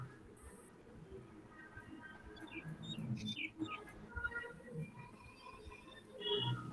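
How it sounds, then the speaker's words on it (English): Birds chirp and tweet in the background behind an online meeting call, scattered short high calls rising and falling over a low murmur, faint and distant, with slight voice-like sounds underneath. "I can hear birds chirping from wherever you're talking"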